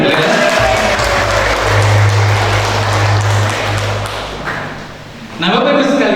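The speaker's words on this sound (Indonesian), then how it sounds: "tepuk tangan lagi" Audience applause at a motivational talk, a loud sustained round of clapping from a crowd that fades, then swells again briefly near the end.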